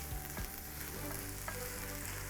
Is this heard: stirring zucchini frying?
yes